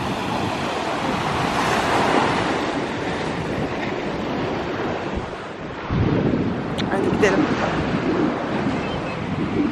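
Sea waves break steadily on a shore, a continuous close roar of surf mixed with gusty wind buffeting the microphone, easing briefly midway before surging again.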